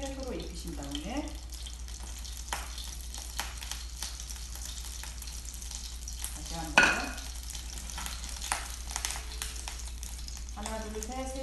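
An egg-battered vegetable pancake frying over low heat in a pan, a soft continuous sizzle with occasional spatula scrapes and one sharp clack near the middle, faint water running briefly, no speech.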